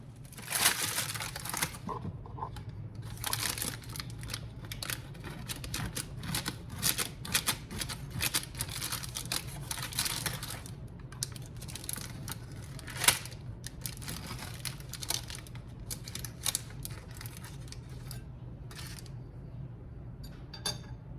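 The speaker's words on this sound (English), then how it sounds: "I'm cutting into my pepper" Knife cutting into a Philly cheesesteak stuffed pepper on a plate, a long run of close, crisp clicks, scrapes and crunchy taps scattered irregularly over a low steady background hum, with no voices.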